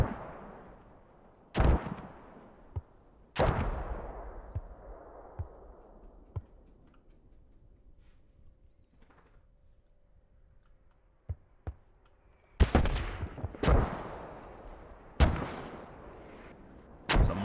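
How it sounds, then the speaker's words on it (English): In a multiplayer war game on the Kohat map, heavy mortar blasts boom in a sparse sequence, some near and sharp with long rumbling decays, others more distant, separated by quiet stretches with faint ambient clicks. "Mortars again slightly off from where that hab is."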